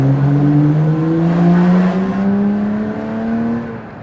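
Engine of a cheap used Lexus car revving hard beneath a bridge, loud and close, its rising and falling harmonic tone echoing off the structure, then easing slightly near the end.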